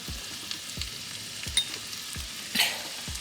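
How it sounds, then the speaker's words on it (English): Ground beef and hot Italian sausage sizzle steadily in a pan on the stovetop, with a regular series of soft scraping stirs roughly every quarter second and a brief louder clatter near the end, close by with no talking. "Add the ground beef and hot Italian sausage, and I'm just going to stir and cook that."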